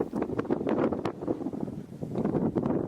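Wind gusting over a lake at sunset, a steady close rushing and buffeting against the microphone with brief flutters, no voices.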